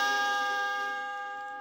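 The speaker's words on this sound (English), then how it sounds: "Remember, when you hear the chime," A single bright, bell-like chime signals a page turn on a children's read-along book record, ringing clearly alone and fading away over about a second and a half.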